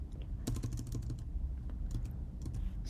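Fingers typing on a computer keyboard at close range, with bursts of quick key clicks, short pauses between them and a low steady hum underneath, no talking.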